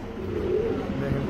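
Silver pigeons, kept among other fancy pigeons for sale, give a low, steady cooing murmur that carries through the whole moment, close by and fairly even in loudness.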